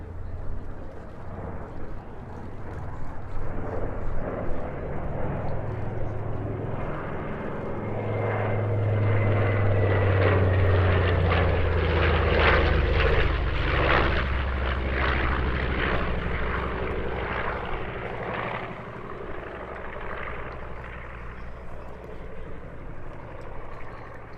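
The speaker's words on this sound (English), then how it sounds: "Over to your right. In the lead now we have the P-38" A P-38 Lightning leads a Flying Bulls four-ship of propeller warbirds past the crowd at Sywell airshow, a loud sustained engine drone swelling as the aircraft pass overhead, then easing away with steady rumbling.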